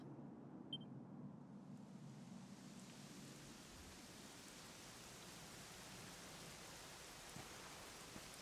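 Steady rain pours continuously in the video game Dragon Quest XI, a dense even hiss with a faint low rumble underneath, no voices.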